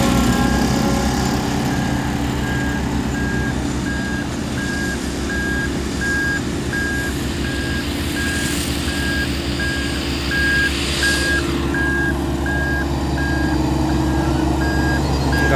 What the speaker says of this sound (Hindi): आ गई है, रिवर्स हो रही है गाड़ी।